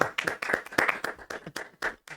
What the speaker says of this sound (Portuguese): uma salva de palmas para o Zé Paulo